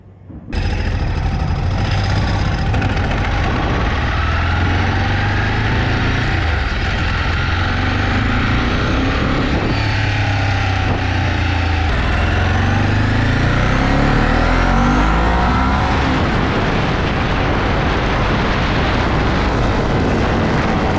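A Ducati 749 superbike starts moving off and rides away, a loud, dense engine roar with wind noise holding throughout as it accelerates; no speech.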